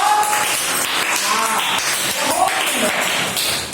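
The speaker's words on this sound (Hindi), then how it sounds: "बहुत सुंदर, ताली बजाओ" A class of schoolchildren applauding during a Hindi alphabet lesson, a dense, loud patter of many hands clapping at once that continues throughout.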